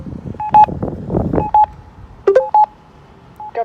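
Audible pedestrian crossing signal for the east-to-west direction at Government Road in Kirkland Lake, Ontario, giving several short, clear electronic beeps in irregular pairs over quiet outdoor background noise.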